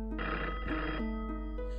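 A telephone rings in a horror video game, sounding as a few electronic ring bursts with short gaps between them, clear but moderately quiet, with no speech.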